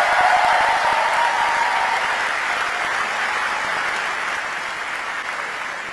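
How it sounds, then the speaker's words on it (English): Loud, sustained audience applause mixed with cheering as councillors leave the stage at a summit in Manchester. A dense, continuous wash of clapping starts strong and eases only slightly across the stretch. "we now invite these wonderful councillors to leave the stage and give them that huge cheer"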